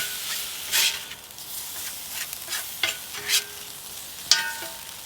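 Lobster roll filling being stirred in a pan after a squirt of Sriracha is added, soft scraping and mixing strokes over a light sizzle, with a few brighter clinks, close and fairly quiet.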